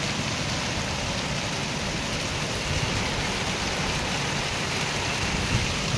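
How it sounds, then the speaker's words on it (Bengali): Heavy rain falls hard and steady outside a home in the evening, a dense unbroken hiss that stays loud and even for the whole stretch. "কিন্তু বৃষ্টিটা বেশ ভালোই জোরে হচ্ছে"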